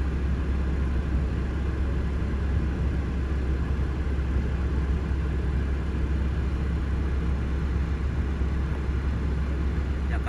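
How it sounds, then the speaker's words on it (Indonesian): Low, steady engine rumble of a 40-foot container truck climbing a steep hill road, a distant, even drone that holds throughout without breaks. "Yaitu truk kontainer 40 feet naik tuh."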